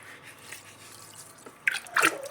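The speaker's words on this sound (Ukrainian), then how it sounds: "Зараз набираю воду, підсолюю воду і вкидаю ці гриби" Water splashes and trickles into a container as it is filled for salting mushrooms. The sound is faint at first and then grows into louder splashing bursts toward the end, close up, with no voices.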